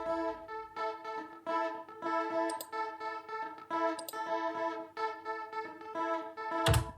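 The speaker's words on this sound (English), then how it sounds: "So he added a guitar track that sounds like this." A rhythmic guitar track with effects plays even, groove-driven strummed chords repeating at moderate volume, with a brief brighter swell near the end.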